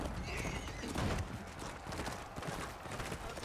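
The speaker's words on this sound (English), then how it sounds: "Okay, there's another horse right here." Horse hooves clip-clop in Chivalry 2 amid a busy medieval battle, with a horse whinnying and a dense, steady wash of combat noise throughout.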